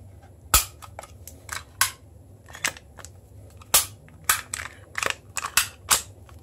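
A Smith & Wesson SD9 pistol is taken apart with a string of sharp, irregular metallic clicks and snaps from the slide and parts, close and fairly quiet, scattered over a low background hum; no talking.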